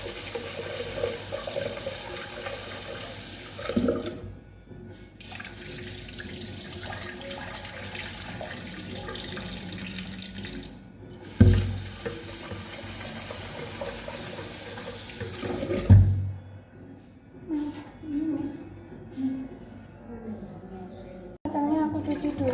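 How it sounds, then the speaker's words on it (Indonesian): Dal lentils are washed under a running tap, with water splashing and trickling into a sink in several bursts separated by pauses, plus clattering of a container. "Kacangnya aku cuci dulu ya"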